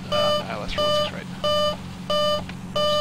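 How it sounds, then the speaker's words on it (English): Landing gear warning in a flight simulator video game: a loud electronic beep tone repeating in regular bursts about every two-thirds of a second, over steady cockpit hum with a voice briefly underneath. "we're going to have to listen to the beeping for a little while"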